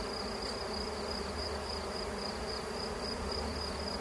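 Honeybees buzz steadily around a hive being recovered, a dense continuous drone from many insects close by with no talking over it.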